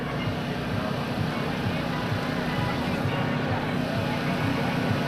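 A heavy airplane makes a slow, low pass with its gear down at the 2002 NAS Oceana airshow, a loud, steady engine drone and rumble holding throughout without letup.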